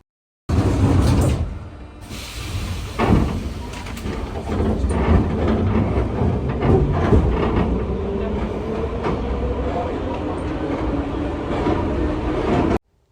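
An older Sofia tram with rheostat-contactor control rumbles as it picks up speed, its motor tone rising while distinct electrical switching clicks punctuate the steady running noise.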